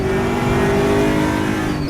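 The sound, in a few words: ESR Aquila race cars passing at Monza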